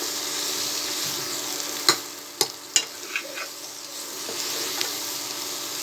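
Chicken dry chilli sizzling and frying in a pan, a steady crackling hiss broken by several sharp spattering pops and stirring scrapes near the middle.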